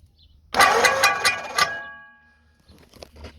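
A 1959 Ford flathead engine turns over, its fan clanking against something: a loud burst of harmonic mechanical clatter with rapid rhythmic knocks lasting about a second and a half, then fading to faint intermittent ticking.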